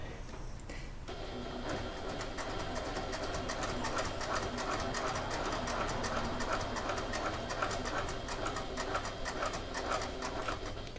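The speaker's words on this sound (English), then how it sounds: "Make sure your needle is down when you go around that corner and you have to lift up your presser foot." A sewing machine stitches a wallet at a stitch length of 4, running steadily and fairly loudly throughout with a continuous rapid mechanical whir.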